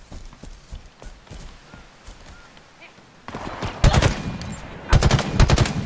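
Gunfire in Halo Infinite starts as scattered faint shots, then turns into loud, rapid automatic bursts in two heavy waves near the end.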